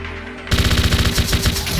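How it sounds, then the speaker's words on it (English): Homing missiles fire in rapid succession in Zone of the Enders, a loud burst of dense, rattling launches that starts abruptly after a brief low hum and keeps pounding to the end. "The homing missile is a powerful weapon with great enemy-chasing capabilities."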